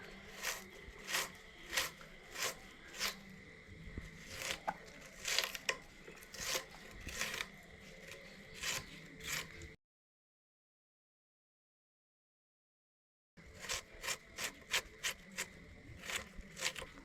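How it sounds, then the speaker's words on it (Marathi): Two onions chopped finely with a knife for a Goan cassia tora bhaji, heard as a steady run of crisp, close knife cuts and scraping on a board, stopping for a few seconds before resuming, with no talk. "आमी 2 अशे कांदे चिरून घेतली."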